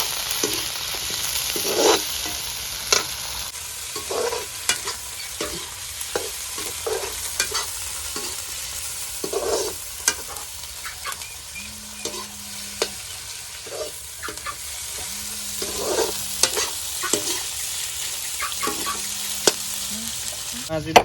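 Chicken fries in a pan with crushed ginger and garlic, Assamese style, a continuous sizzle broken by repeated scraping stirs and clinks of the utensil, with no talking.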